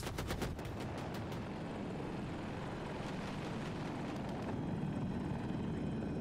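A KA-520 Super Hokum attack helicopter flies over the Hourglass map in a shooter game, its rotor drone steady and faint, with a burst of rapid gunfire near the start.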